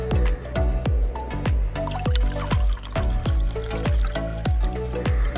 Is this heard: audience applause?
no